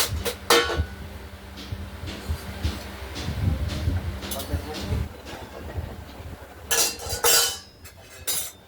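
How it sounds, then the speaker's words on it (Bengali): A metal lid clinks onto a kadai holding simmering katla fish among kitchen clatter, with a few sharp clanks at the start and end. "এবার কড়াইতে আমরা ঢাকনাটি দিয়ে দেবো, মাছ ফুটতে থাকুক।"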